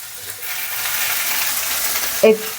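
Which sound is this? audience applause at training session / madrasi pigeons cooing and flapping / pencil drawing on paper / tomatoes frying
tomatoes frying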